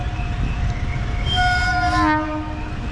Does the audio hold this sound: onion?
no